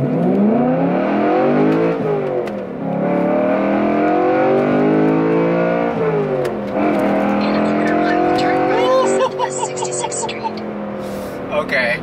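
BMW 1 Series with a swapped-in E92 M3 engine accelerating hard, a loud, close engine note rising through the gears with brief drops at each shift, while people talk over it inside the car.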